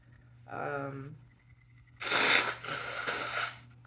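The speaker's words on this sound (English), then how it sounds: "That sneeze just really put me under." A single loud, close sneeze: a voiced gasp, a pause, then a sharp burst that trails off.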